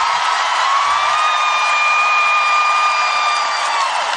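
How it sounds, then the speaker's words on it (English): A crowd at a women's college basketball game between Indiana and Purdue roars steadily, a dense sustained wash of cheering and applause in an arena with a few whistle-like tones riding on top. "It looks like they're going to bring on Meister to give Holmes a nice round of applause."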